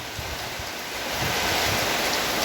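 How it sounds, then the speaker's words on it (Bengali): Rain falls steadily in Nilphamari during a thunderstorm, a dense, even wash of broadband noise that swells slightly louder in the second half, with no voices. "আমাদের নীলফামারিতে স্বস্তির বৃষ্টি দেখতেই পাচ্ছেন খানিকটা আগেই বৃষ্টি শুরু হয়েছে"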